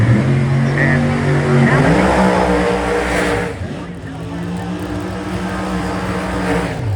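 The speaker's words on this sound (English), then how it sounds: "Another car will take Billy Vatican right over here in the left lane out of Brandon, Mississippi" A 1968 Chevrolet race car engine roaring at the track, loud throaty revving that rises and drops, heard under an announcer's commentary.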